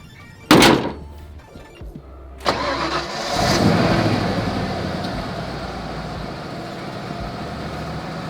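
A 1992 Ford F-150 Flareside pickup: a door thunks shut, then the starter cranks briefly and the engine catches and settles into a steady idle, close by.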